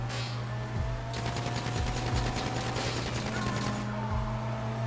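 Automatic gunfire from a GTA 5 heist shootout, a steady fast burst of shots over a constant low engine drone, with a brief pause partway through before the firing resumes.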